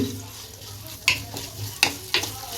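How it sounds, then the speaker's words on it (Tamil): Ginger garlic paste and browned onions fry in a pan for Chettinad pepper chicken sukka under a steady low sizzle, punctuated by three sharp metallic scrapes of a stirring spoon. "இதையும் நல்லா வதக்கி விட்டுப்போம் பச்சை வசனம் போகிற அளவுக்கு"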